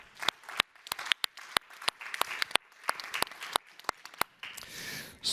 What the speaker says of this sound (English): A warm applause also to Anna.